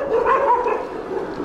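A dog barks at night near a road around Thecho in Lalitpur, a short, fairly close burst of barking with a whimpering edge, heard alone.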